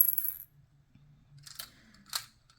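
Small beads poured and clicking into plastic storage containers while organizing and restocking a bead collection, with a bright rattling burst at the start and two more short clattering pours later, fairly faint overall.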